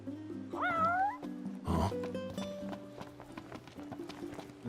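A cat meows in Final Fantasy XV, a short rising call over a steady game music bed with tonal notes and a brief burst of noise.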